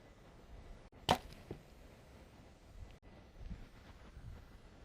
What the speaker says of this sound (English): Let's go ahead and shoot this.